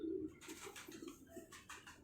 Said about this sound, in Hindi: बहुत आला कबूतर